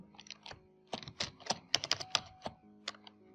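Quiet, close computer keyboard typing as details are entered, with irregular bursts of crisp keystrokes and short pauses between them, with no talking.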